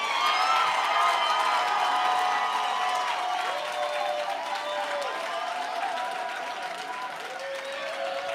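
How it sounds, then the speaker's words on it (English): Steady audience applause and cheering at a live Write About Now spoken-word poetry show fill the whole stretch, moderately loud and even, fading slightly toward the end. "Y'all applaud the poet, applaud the poet, applaud the poet."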